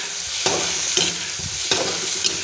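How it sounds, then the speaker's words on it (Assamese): Spices being stirred into long bean sabji frying in a pan, with a continuous sizzle broken by several sharp scrapes and clanks of the spoon against the pan, close and fairly loud, with no talking. "এতিয়া মছলা দিয়া হ'ল মিক্স"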